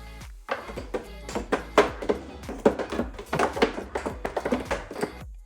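A kitchen spice drawer filled with small bottles slides and clatters, with quick wooden knocks and glassy clinks in a busy, close-up burst of handling sounds.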